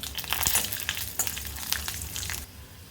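Mustard seeds, peanuts and dried chillies frying in hot oil, a close crackling sizzle with scattered sharp pops that thin out toward the end.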